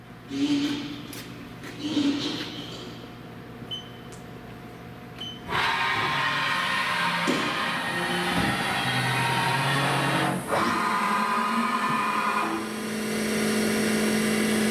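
A CNC machine's spindle spins up partway through and holds a steady, loud, whining drone with tonal overtones, following quieter machine sounds and a few faint voices.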